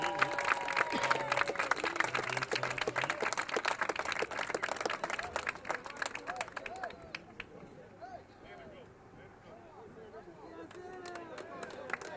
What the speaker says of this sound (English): Big round of applause for the band under the direction of Mr. Larry Henry